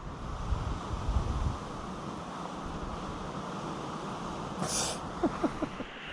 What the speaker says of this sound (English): As you can tell, it's pretty windy up here